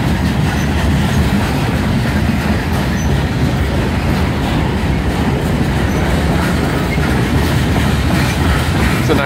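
A freight train with tanker cars rolls past close by in a loud, continuous rumble, with wheels clattering over the rails throughout.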